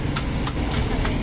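Hooves of a horse pulling a kalesa clip-clop in a steady rhythm of about four beats, heard outdoors under heavy engine rumble and traffic noise.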